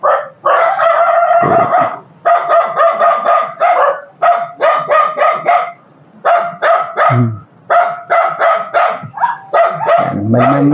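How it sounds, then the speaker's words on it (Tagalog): A dog barks over and over in quick, loud bursts close by, with brief gaps between volleys and no talking, outdoors at a rural former home site beside rice paddies. "May aso ko dito."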